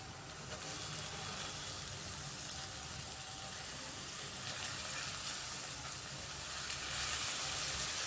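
Fenugreek leaves go into a sizzling onion, tomato and chilli mixture in a pan, giving a steady hissing fry that swells slightly toward the end, with no talking.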